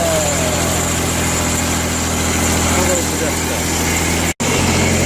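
An old, neglected Jacobsen mower's small engine idles steadily with a constant low hum and rattle, close by, briefly cutting out for an instant near the end.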